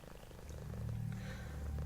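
A low, steady rumbling purr from a cat, close by and continuous, growing slightly louder as it goes on.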